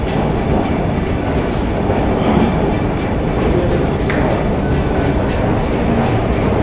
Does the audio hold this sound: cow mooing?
no